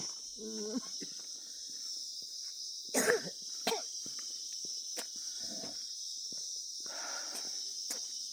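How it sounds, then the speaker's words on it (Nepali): A few short, dry coughs from someone outdoors near a field, two close bursts in the middle and a fainter one later, over a steady high insect drone with no talking. "खोकी लाग्दैछ"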